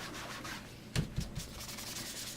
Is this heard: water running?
no